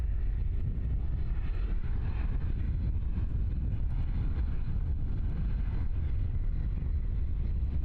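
ATR turboprop airliner at Christchurch airport, a steady loud low-pitched propeller and engine roar that holds constant throughout, heavy with rumble and wind buffeting, no voices.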